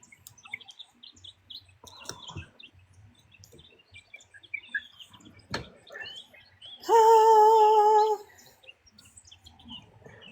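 Birds sing outside a slightly open window: scattered short chirps and tweets, some near and some farther off, then one loud, sustained, strongly tonal call for about a second before quieter chirping resumes.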